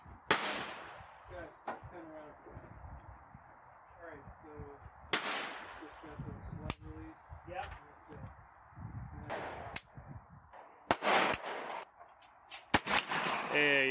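Handmade 11mm Mauser rounds are test fired at an outdoor range. Several sharp, loud reports and clicks come at irregular intervals with mostly quiet pauses between them, and a voice talks faintly in the gaps.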